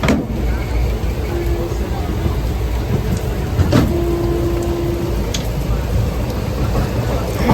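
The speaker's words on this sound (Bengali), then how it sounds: "এদিকে মুষলধারে বৃষ্টি শুরু হয়েছে।" Heavy rain pours down steadily while waiting for a train, a dense continuous hiss of rainfall with a distant rumble and faint background sounds.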